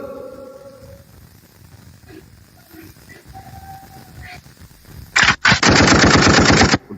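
Rapid automatic gunfire from a mobile shooting video game bursts out loud and close near the end, a dense rattling stream following quieter game ambience and faint tones.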